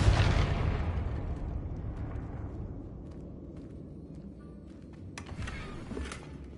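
A Confringo spell explosion in a Harry Potter video game bursts loudly at the start and rolls off into a long decaying rumble, with scattered crackles and a few sharp hits following near the end.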